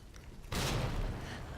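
A grenade blast in Resident Evil 2, thrown at a zombie: one sudden broadband boom about half a second in, then a sustained loud rumble that slowly fades.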